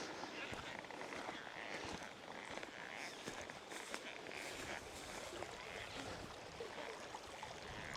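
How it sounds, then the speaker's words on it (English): A clear, ice-cold creek runs past a campsite, giving a steady, close, broadband rush of flowing water with no pauses. "And the creek is ice cold, which should be awesome to be able to cool down my cold snack for this evening."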